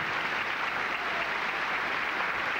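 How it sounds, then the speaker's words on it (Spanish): Dense, continuous applause from an audience at a beatification celebration in Oaxaca, welcoming a feather dance performance; a steady wash of many hands clapping at once with no breaks. "Recibimos a la danza de la pluma con un fuerte aplauso."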